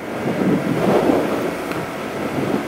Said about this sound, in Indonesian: Anginnya kencang juga sini nih